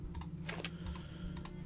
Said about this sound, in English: just mash your fingers on the keys